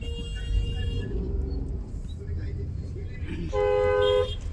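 A car horn honks loudly near the end over a constant hum of heavy Sunday traffic outside a crowded DMart store, with faint voices and other vehicle tones earlier.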